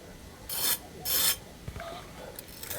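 Crisp crunching of a grilled sandwich's crusty bread, two loud raspy bursts followed by quieter crackles, close up with no talking.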